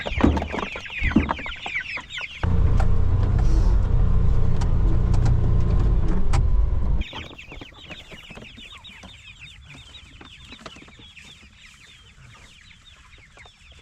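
A flock of young chickens clucks and chirps busily as they come out into a free coop on a small farm. The birds are loud and close at the start and end, and a steady engine-like drone covers the middle.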